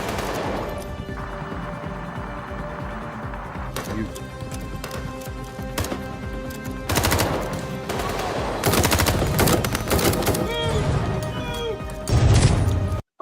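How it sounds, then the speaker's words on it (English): Bursts of gunfire from a short action film ring out amid crashes and clatter, heavy and continuous in several stretches, with voices shouting over the shooting. "Contact, and they started shooting them."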